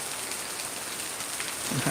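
Heavy rain in Pattaya pours onto surfaces around a house, a dense, even hiss of drops that stays constant throughout the short stretch.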